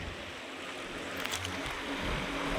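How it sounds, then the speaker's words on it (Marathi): Sea waves wash steadily onto Alibag beach as the tide rises, forming a broad, continuous rush of surf and wind noise that swells slightly toward the end, with no voices. "अलिबागचा बीचचा हा दृश्य बघू शकता पाणी वाढत आहे इकडे"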